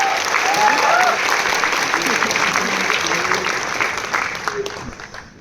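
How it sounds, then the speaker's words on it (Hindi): Students at a college freshmen orientation applauding, a loud dense burst of clapping that gradually fades, with a few voices calling out over it. "तालियां बजाओ यार"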